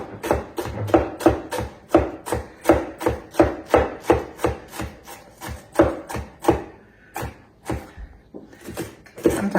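A knife chops through a medium-sized onion in a rapid, steady series of crisp strikes, about two per second, slowing into a few scattered cuts near the end. The chopping is close and clear, with no talking.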